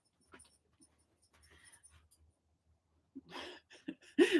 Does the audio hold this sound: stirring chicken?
no